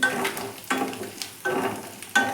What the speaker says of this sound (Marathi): जिरे पण छान तडतडू द्यायचं